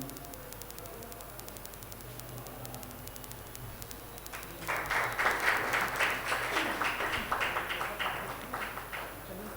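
Faint room murmur gives way midway to a swell of lively applause from a poetry gathering's audience welcoming an honoured guest, fairly distant and sustained to the end.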